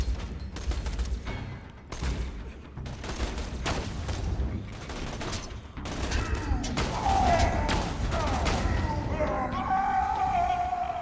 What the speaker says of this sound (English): I need my sniper rifle.